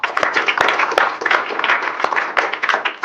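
Crowd applause, many hands clapping steadily at moderate loudness for about three seconds, with no voices over it.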